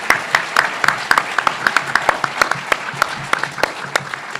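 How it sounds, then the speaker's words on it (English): Audience applause for moot court finalists and competitors at a competition finals evening, a steady wash of many hands clapping with sharp individual claps standing out throughout, fairly loud and continuous. "could we have another round of applause for our finalists and competitors?"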